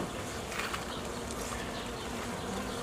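A crowded honeybee colony packed tightly in a hive, even onto the divider board, gives a steady, continuous buzzing hum that stays at an even level throughout.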